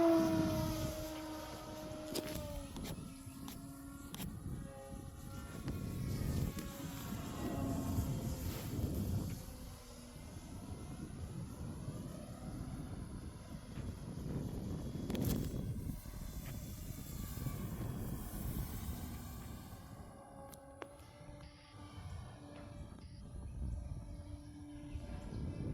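A Nexa P-51 Mustang RC plane runs at full throttle, its engine whine sweeping up and down in pitch as it circles and passes, sometimes close and sometimes farther off, set against open-air background noise.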